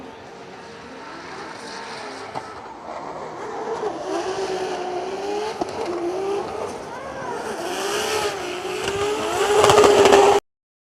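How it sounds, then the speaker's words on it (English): BMW drift cars battle side by side during Top32 practice at Drift Masters in Finland, engines droning and rising steadily, growing louder and closer toward the end with a high revving burst, some faint voices underneath. "Then this BMW battle here, Itaisade, Mika Keskikorpi."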